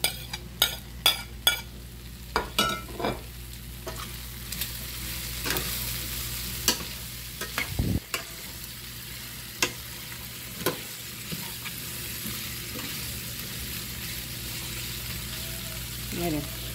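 Onion added to a pan of frying chiles and pork chop pieces for purslane stew, a steady low sizzle under repeated sharp clicks and scrapes of stirring, with one brief louder splash partway through.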